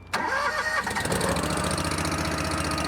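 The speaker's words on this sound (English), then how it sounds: "It's a gasoline engine." A gasoline tractor engine cranks and catches at an auction, then settles into a steady, loud mid-pitched idle with a regular chugging rhythm.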